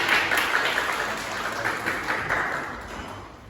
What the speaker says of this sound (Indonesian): kasih tepuk tangan buat teman-teman